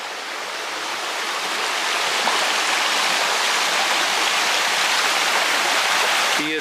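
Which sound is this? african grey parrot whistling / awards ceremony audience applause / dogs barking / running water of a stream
running water of a stream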